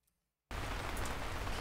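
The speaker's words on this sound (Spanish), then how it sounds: "Esto se supone que es que está lloviendo." Simulated rain from a white noise app cuts in abruptly after a brief near-silence, then continues as a dense, steady hiss of rainfall, loud and even.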